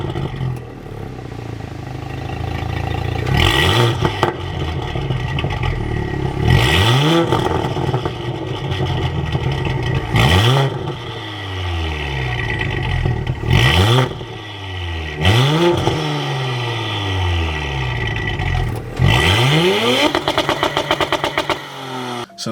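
Audi B9 S4 with a Stage 1 tune free revving in park: about five sharp blips rise and fall in repeated bursts over a steady idle, close and loud with no talking.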